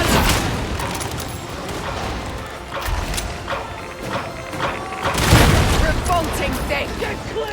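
Shotgun fire in Warhammer 40,000 Darktide, with heavy booming blasts amid chaotic combat clatter and crashes, and in-game voices shouting over the fighting.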